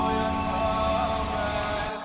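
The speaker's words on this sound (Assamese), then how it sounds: "এতিয়াও বৰষুণ দি আছে" Heavy rain pours steadily on surfaces during waterlogging in flooded Bangalore at night, a dense continuous hiss close by that cuts off abruptly near the end.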